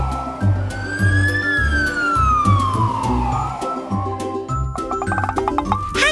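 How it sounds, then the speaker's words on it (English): A cartoon fire engine siren in a kids' animated show wails in long rising and falling sweeps, loud and close, over bouncy background music with percussive hits, and nobody speaks. "Off I go in my fire engine!"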